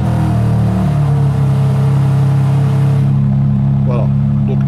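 A BMW M3 CS with a twin-turbo inline six of 550 horsepower and a full titanium exhaust idles loud and close after a cold start, a deep steady drone that eases slightly toward the end.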